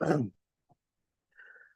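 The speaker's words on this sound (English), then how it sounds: "sorry, I need to clear my throat." A single short throat clearing, quick and close, followed by a brief faint sound and then quiet.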